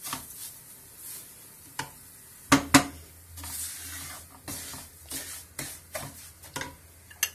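Semolina halva being roasted in a pan, with a spoon scraping and stirring the grains in irregular close-up strokes, soft sizzling and occasional sharp clinks against the pan.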